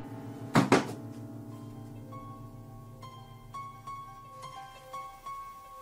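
Basement door slamming shut with a sharp double thud, loud and close, followed by lingering resonant ringing tones that fade out over several seconds.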